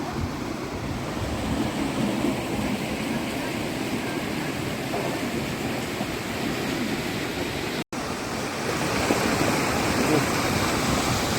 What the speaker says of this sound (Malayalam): ചുഴി വെള്ളം പോകുന്നുണ്ടോ